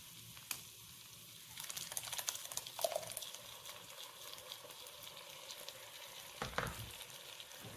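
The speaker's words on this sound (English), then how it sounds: "I'm going to strain it, and I'm going to pour it over my meat." Red chile sauce for beef chile colorado is strained and poured over the meat, giving faint liquid splashing and scraping with small clicks and a soft sizzling wash in a quiet kitchen.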